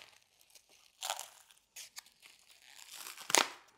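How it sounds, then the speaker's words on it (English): Prime rib roast being unwrapped from its packaging: quiet, close crinkling and tearing in short bursts with pauses, ending in a louder crackling rip. "So now I'm going to unwrap it"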